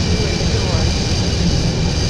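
Airliner jet engines taxiing in the Flight 787 mobile flight simulator game, playing an Emirates A380, give a steady, loud, close rumbling whine. It runs throughout, with talk over it.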